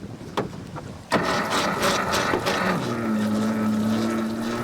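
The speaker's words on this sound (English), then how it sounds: "He sets the wheel so the boat circles" A crab fishing boat runs in circles while its motor hums steadily, with a low droning tone settling in under wind and water noise after a few sharp knocks at the start.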